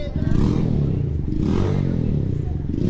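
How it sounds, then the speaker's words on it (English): A Kawasaki Versys adventure motorcycle with an obnoxiously loud exhaust rumbles past nearby, a deep continuous engine drone that swells and fades, while a rider's voice talks over it. "You always get the one with the obnoxiously loud exhaust, though, don't you?"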